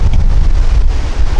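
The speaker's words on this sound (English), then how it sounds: "I said whoa because my hat just about flew off because it's windy as heck" Strong gusting wind buffets the microphone at Hollywood Forever Cemetery, a loud, steady low rumble with no break across the short stretch.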